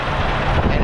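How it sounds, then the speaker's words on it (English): Strong wind buffets the microphone in a continuous loud roar, with no other sounds standing out. "Yeah, and it's windy."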